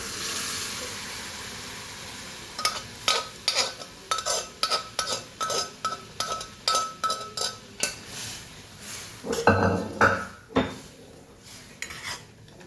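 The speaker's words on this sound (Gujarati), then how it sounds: "આપણે એમાં મગ એડ કરી લઈએ." Mung beans being stirred into a tomato masala in a metal pot, with rhythmic clinks and scrapes of a spoon against the pot repeating at a steady pace over a soft background hiss.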